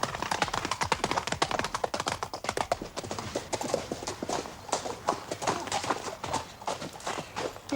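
Steady clip-clop of horse hooves trotting on a hard surface, close and continuous, with a faint voice now and then.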